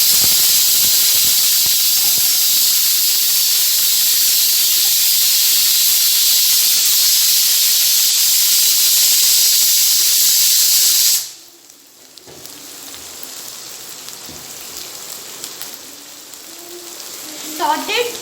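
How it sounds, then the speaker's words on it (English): Vegetables for pav bhaji sautéing in a hot pan, giving a loud, dense, steady sizzling hiss that stops abruptly partway through, leaving a quieter room tone with faint clatter and soft movement. "Saute it until it's golden brown or pinkish in color."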